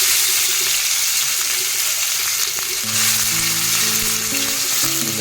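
Tomatoes sizzle loudly and steadily in hot oil in a pan for a tuna fish curry, a constant close frying hiss with faint stirring and clinking underneath.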